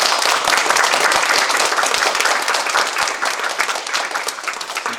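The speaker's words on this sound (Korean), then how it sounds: "여러분 박수 이렇게 한번" Congregation applauding at a church ordination service, dense sustained clapping from many hands filling the room for several seconds before thinning slightly toward the end.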